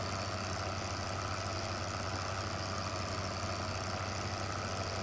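A tractor engine in Farming Simulator 2015 drones at a steady, unchanging low rumble throughout, loud and close, with no talking.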